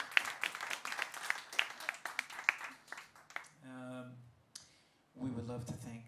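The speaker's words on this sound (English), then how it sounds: "you can clap for that" An audience at a Greek traditional music concert claps, with scattered, uneven hand claps that thin out over a few seconds. A voice then speaks into the quiet that follows.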